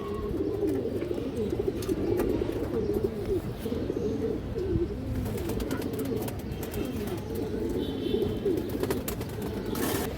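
Continuous cooing of pigeons, including a large silver-necked female, fills the air in a loft of high-flying, racing and colour pigeons, with steady low throaty coos and a few faint chirps throughout.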